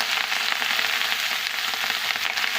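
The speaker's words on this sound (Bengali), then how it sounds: "সবজিটা কিছুক্ষণ নেড়ে নিয়েছে, এখন দিচ্ছি পালং শাক" Mixed vegetables and spinach are stirred in a frying pan, giving a continuous hissing sizzle with a soft, even texture throughout, heard close and alone.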